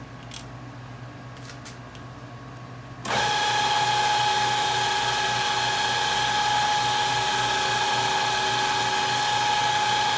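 After a few quiet seconds, a high-pitched drill with a number 55 bit starts up drilling tiny holes in hardened stainless steel, running continuously at a steady, loud whine until the end.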